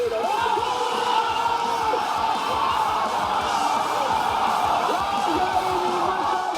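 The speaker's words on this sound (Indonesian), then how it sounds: "Sorak-sorai menggema setiap kali Timnas Indonesia melakukan serangan atau bertahan dari gempuran lawan" Crowd at a public screening of an Indonesia U23 football match, a dense roar of many voices cheering and yelling together, steady and loud throughout.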